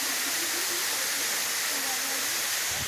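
Waterfall at Falling Waters, a dense, constant rushing roar of falling water close by, filling the scene with broadband hiss throughout.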